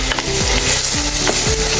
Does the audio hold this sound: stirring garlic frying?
yes